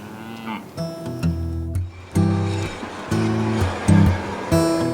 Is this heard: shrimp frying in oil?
no